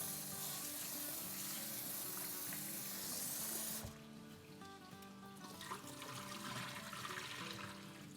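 Rice being washed for fish biryani: running water pours and splashes steadily into a vessel, then shifts to a softer trickling and sloshing partway through, faint and close, with no talking.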